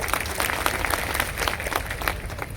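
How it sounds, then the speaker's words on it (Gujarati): A crowd at an Aam Aadmi Party political meeting in Vadodara, India bursts into applause, many hands clapping together steadily throughout. "એકવાર જોરદાર તાળીઓ થઈ જાય"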